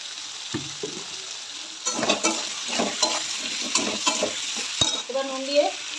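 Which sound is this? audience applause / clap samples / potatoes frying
potatoes frying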